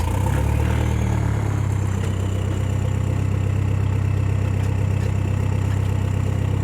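A VW TDI diesel swapped into a Chevy 1500 runs close and loud, a steady, even idle with a deep, continuous rumble and a light mechanical clatter layered on top.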